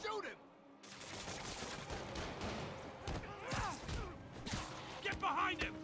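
Gunfire in a thug fight in Marvel's Spider-Man Remastered, with loud bursts of shots and automatic fire amid crashes and impacts, and a voice shouting over the action.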